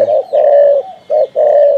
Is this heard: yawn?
no